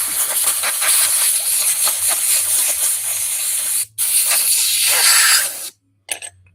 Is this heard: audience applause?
no